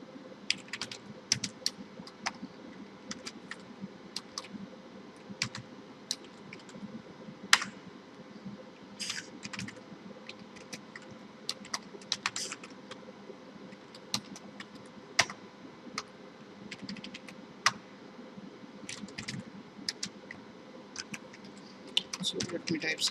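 Rapid, continuous typing on a computer keyboard during a beginner Python coding session, with clicky keystrokes in irregular bursts and a few louder taps, close and steady over a low background hum, with faint talk at times.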